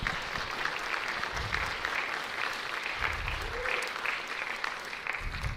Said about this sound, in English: Let's give it another round of applause for our soloists, Caleb Barnes on trumpet and Chris Lopez on saxophone